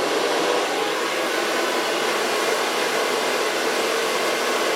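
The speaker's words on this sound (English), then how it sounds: "And put my blow dryer on volume" A hair blow dryer runs steadily throughout, a constant loud whooshing roar with no pauses and no voices.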